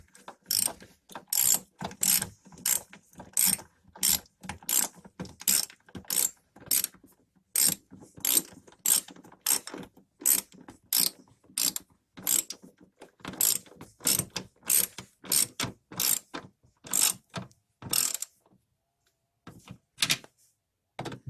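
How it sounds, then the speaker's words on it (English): A hand ratchet clicks in quick bursts of strokes while tightening a nut, crisp and close, with rhythmic groups of sharp clicks separated by brief pauses, ending in a few sparse clicks. "just holds it enough for you to get the nut tightened"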